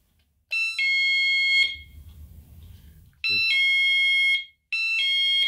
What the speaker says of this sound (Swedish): Den larmar att någonting är där.